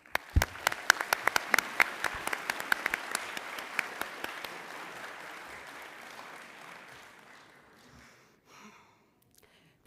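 Audience applauding a graduating class at a school graduation ceremony, loud dense clapping from a large crowd that swells, then thins out and fades to near silence.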